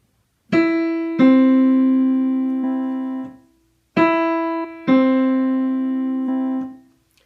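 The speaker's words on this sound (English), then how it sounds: "That was our doorbell." Two-tone electronic doorbell chime rings twice, each ding-dong bright and ringing out, with a short pause between the rings.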